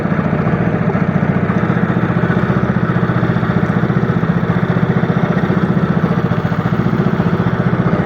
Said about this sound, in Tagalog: Nagaminor na lang ako para dahan-dahan tayo makalapit sa Baura.